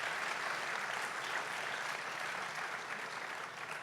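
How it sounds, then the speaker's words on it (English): Steady audience applause from a crowd honoring chef Jacques Pépin's 90th birthday, a dense even clatter of many hands clapping continuously at full level throughout, easing slightly near the end. "We should clap for that."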